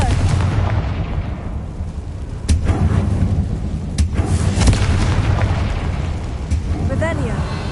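Confringo blasting curse from the game Hogwarts Legacy, loud booming blasts that land in several separate hits over a constant rumbling, explosive background, with some voice audible beneath the action.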